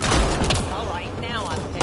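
Rapid gunfire from enemies shooting in the video game Mass Effect Andromeda, sharp crackling shots packed close together, with voices talking over the barrage.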